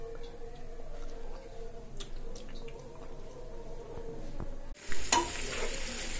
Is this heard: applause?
no